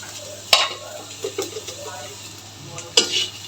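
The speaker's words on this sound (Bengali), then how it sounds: "এখন এইভাবে পিঠেকে দেখে নেড়ে নেড়ে সিদ্ধ করে নেবে পুরোপুরি ভালোভাবে লাল লাল করে" Vegetable filling for rolls fries in a pan while a utensil stirs it, with steady soft sizzling broken by a few sharp scrapes and clinks against the pan.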